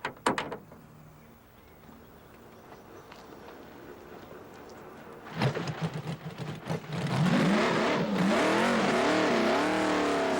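A supercharged BRM V16 racing car engine, painted green, snarls in from quiet, building from about five seconds into a loud, sustained high-revving howl with rising and falling pitch sweeps as it passes close by.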